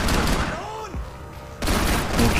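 Gunfire in the video game Max Payne 3 on Xbox 360, short bursts of shots over a busy game soundscape with music and effects, loud throughout with a brief lull in the middle.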